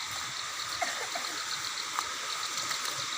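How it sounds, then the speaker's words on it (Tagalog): A clear-water stream (sapa) where people wash clothes and bathe: a steady, even rush of flowing water, moderately loud and continuous for a few seconds, with no talk. "So dito na kami sa sapa"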